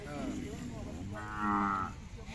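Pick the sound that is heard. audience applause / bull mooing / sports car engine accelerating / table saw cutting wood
bull mooing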